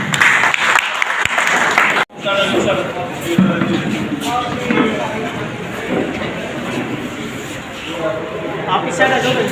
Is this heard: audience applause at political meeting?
yes